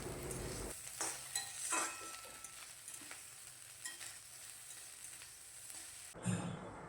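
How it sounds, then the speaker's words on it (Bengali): Egg fried rice with boiled potatoes and scrambled egg frying and being stirred in a pan, a steady close sizzle with scraping stir strokes throughout and no talk. "আলু সেদ্ধ, তারপর ডিমের ঝুড়া আর ভাত একসাথে হালকা করে ফ্রাই করে নিলাম।"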